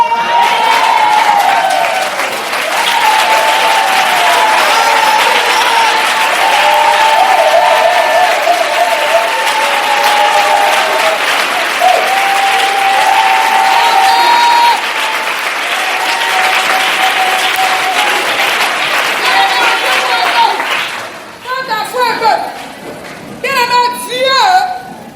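A congregation at an evangelistic church service applauds and acclaims the Lord with loud, sustained clapping and cheering voices, then it breaks into scattered claps and shouts near the end.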